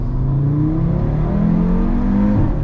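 A 2018 Audi RS3 in Sport automatic mode accelerates hard from inside the cabin, a loud continuous engine drone rising in pitch with brief dips at the gear changes, no talking.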